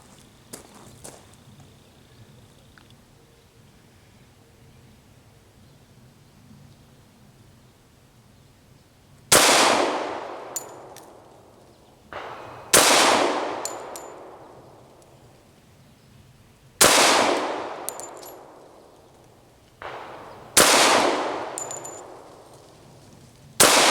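A Ruger American pistol fires at a shooting range with five loud, sharp gunshots spaced a few seconds apart, each ringing out with a decaying echo, after a quieter stretch of handling noise.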